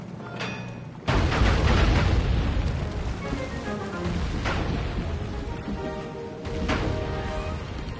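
Cannons fire and explode in the video game Sly 3, a loud booming blast followed by sustained rumbling crashes, and another burst near the end.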